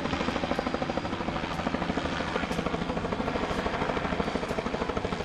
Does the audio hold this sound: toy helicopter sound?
yes